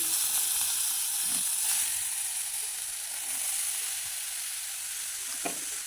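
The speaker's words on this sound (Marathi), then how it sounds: "याच्यात आपण डाळ शिजलेली टाकून घ्यायची कढईमध्ये" Cooked dal for puran poli tipped into a kadhai and stirred, giving a soft continuous sizzle and hiss with occasional scraping strokes of the spoon, fairly close and steady, with no talking.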